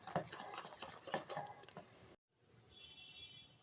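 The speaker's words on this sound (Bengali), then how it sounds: "এবার তেলটা ব্যাটারটার সঙ্গে ভালো করে মিশিয়ে দেবো।" A spoon works oil into a thick fish-fry batter, giving soft wet scraping and squishy stirring strokes, fairly faint and close, broken by a brief silence before a quieter, steady stretch.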